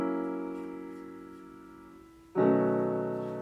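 Sustained piano chords with the low end filtered out, produced in Ableton; one chord rings and slowly decays, then a second chord strikes loudly at about two-thirds through and holds, with no voices.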